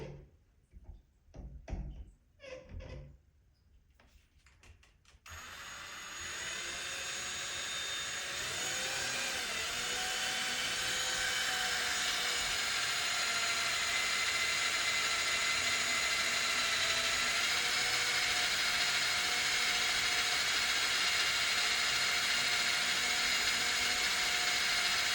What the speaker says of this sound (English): So now to remove the balancing spool, I'm going to try and drill it out.